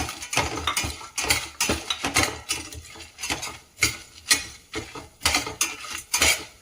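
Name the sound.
cumin, cinnamon, cloves, cardamom being fried and stirred in pan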